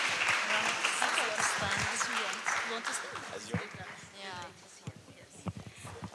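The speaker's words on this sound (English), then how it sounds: "let's give her a round of applause" Audience clapping at a youth peace event on cities and communities, a steady crackle of many hands that builds and then thins out, with talk running over it.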